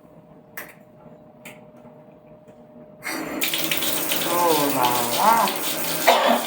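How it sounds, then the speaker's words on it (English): Water gushes steadily from a bathtub tap in a small master bathroom during a makeover, a loud, broad rush that starts abruptly after a quiet stretch with a few faint clicks, while a voice speaks briefly over it. "Now turn it off and turn on the water, the tub."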